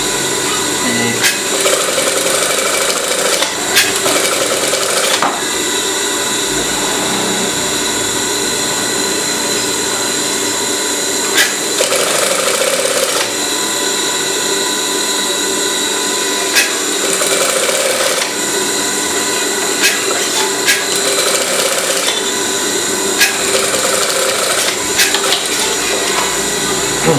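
A sewing machine stitches a pillowcase made from leftover fabric, running in steady close whirring bursts of several seconds each, separated by brief pauses and small mechanical knocks.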